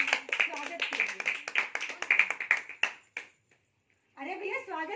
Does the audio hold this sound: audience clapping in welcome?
yes